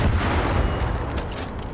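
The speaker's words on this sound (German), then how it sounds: "Da ist wieder so ein Silo. Gucken wir mal. Explosion drin." A silo explodes in the video game Far Cry 5, a loud, broad rumbling boom that starts at full force and then slowly fades as a sustained roar, with no voices.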